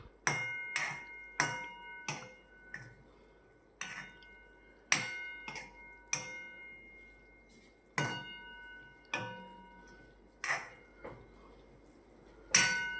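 Eggplant curry being stirred in a metal pan: a spoon repeatedly scrapes and clinks against the pan, one sharp ringing strike about every second with brief decays and quiet gaps in between, close and clear with no talking.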